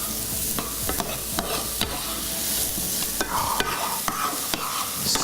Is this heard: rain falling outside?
no